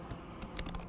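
A few sharp key presses on a computer keyboard, a shortcut tapped in quick succession at close range with no talking.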